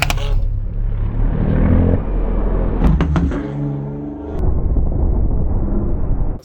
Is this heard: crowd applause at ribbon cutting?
no